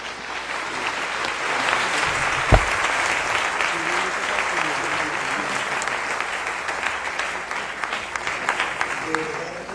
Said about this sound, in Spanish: Quisiera pedirles muy atentamente que le demos un gran aplauso a nuestros invitados